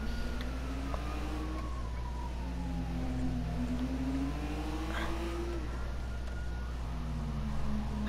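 A wailing police siren in a video game rises and falls in long sweeps over a low engine rumble, fairly faint and steady, with no voices.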